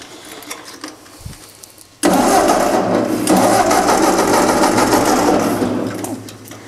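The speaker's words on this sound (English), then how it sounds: "when I go ahead and start the tractor" After a few quiet seconds, a tractor engine abruptly roars to life and keeps running, loud and steady, then begins to ease off near the end.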